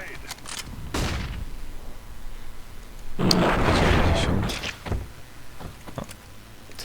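Gunfire in the video game CS:GO: a sharp early shot, then a longer loud burst of fire, followed by a few scattered shots with quieter gaps between them.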